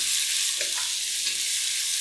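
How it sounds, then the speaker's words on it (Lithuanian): Soft, even sizzle of onions, celery stalks and carrots frying in a pan, with a few faint scrapes of stirring; no one speaks. "Daržoves kepam tol, kol svogūnai pasidaro permatomi."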